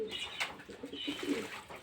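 Pigeons bathing during a wash give soft, low cooing calls in short repeated phrases, close by, with light wing flutters and splashy rustling above.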